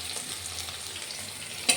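Chopped onions and cumin seeds fry in oil in a wok with a pinch of salt and turmeric for a fish curry. A steady, close sizzle runs throughout and ends in a short, sharp clatter of stirring.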